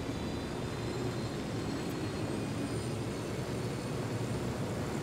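Loud, steady rotor and engine roar of a helicopter powering up for takeoff in the video game Ghost Recon Wildlands, a dense continuous drone filling the whole stretch with no voices over it.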